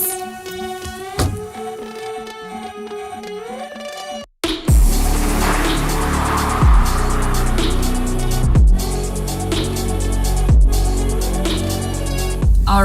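Mercedes-AMG GT car pushed through a slalom at the limit, a steady engine drone with recurring surges and whooshes as it swings side to side, heard from close by after a short musical lead-in.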